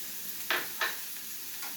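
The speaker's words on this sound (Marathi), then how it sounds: "आता हिरवी मिरची टाकते मी" Green chillies frying with tiny prawns in a pan over a low flame, a quiet continuous sizzle with a few brief scraping stirs.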